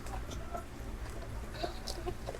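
Backyard chickens cluck softly and intermittently at a distance, the faint calls sitting in a steady low outdoor hum.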